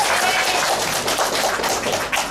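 Brief burst of audience applause after a drama performance, dense and loud clapping from many hands filling the space.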